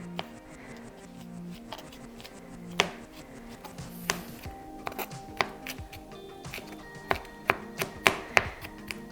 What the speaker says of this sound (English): I'm just going to grab my big knife one more time and just go through it.